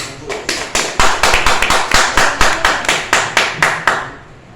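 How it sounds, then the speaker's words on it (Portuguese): A church congregation claps in a loud, even rhythm of distinct beats for about four seconds, then fades out. "Você pode aplaudir o Senhor?"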